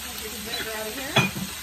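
A whole fish fries in a pan over a fire, giving a faint steady sizzle with a brief clink of a utensil partway through.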